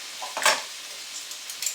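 Onions frying in a pan, a soft close sizzle with a brief clatter of a utensil against the pan and light stirring scrapes, no voices.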